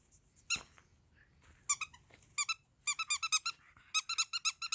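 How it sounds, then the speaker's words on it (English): A squeaky toy dog being chased outdoors gives a single squeak, then quick bursts of sharp rubbery squeaks in rapid rhythmic clusters, close and loud against near silence. "A squeaky toy dog."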